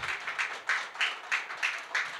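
Audience at a Catholic book concert applauding a priest, a moderate room-filling clap with rhythmic swells about three times per second, no talk over it.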